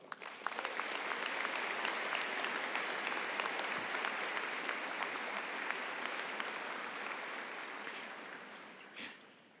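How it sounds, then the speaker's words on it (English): A large graduation crowd at a university commencement gives an extended round of dense, steady applause, holding evenly for several seconds and then fading at the end. "we give Eboo one more round of applause?"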